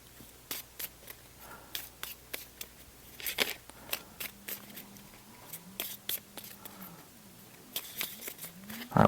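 Deck of cards being shuffled during a solo game of Legendary Encounters: Alien, with repeated crisp riffling bursts and card snaps spread over several seconds, fairly close and quiet, alongside a low hum.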